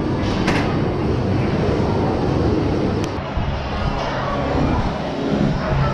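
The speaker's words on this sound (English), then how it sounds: "And here comes our train." Roller coaster train rolling into the station at Busch Gardens, a steady mechanical rumble and clatter that stays loud and continuous, with a couple of brief sharp clanks partway through.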